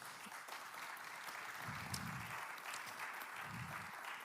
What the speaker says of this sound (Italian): vi chiederei di far loro un applauso